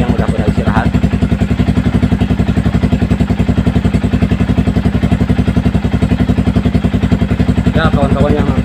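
Yamaha Vixion motorcycle engine running steadily at close range with a fast, even low-pitched throb throughout, a few brief higher clatters and faint voices in the background, during an on-bike thermostat check at night.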